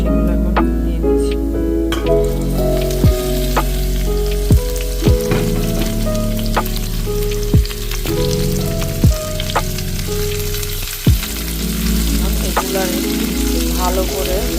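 Chopped vegetables for chicken chow mein hit a hot pan with chili and garlic, and they fry with a loud, continuous sizzle. Repeated sharp clacks and scrapes of a utensil against the pan punctuate it throughout.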